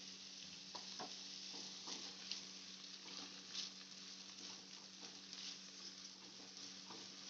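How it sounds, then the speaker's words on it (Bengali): Finely chopped onion frying in butter in a pan for soya fried rice, a faint steady sizzle with light crackles and occasional stirring scrapes, no talk. "পেঁয়াজটা বেশ ভালোভাবে ভাজা হবে"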